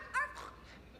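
A human voice imitates a dog's bark, an actor playing a pig giving a single high yappy "arf" followed by a fainter second yip, in a stage musical.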